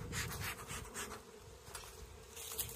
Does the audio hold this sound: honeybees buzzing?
yes